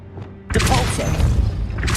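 The Depulso force-push spell is cast in the Hogwarts Legacy video game. After a brief lull, a loud, booming blast bursts in and rumbles on with a dense, thumping impact.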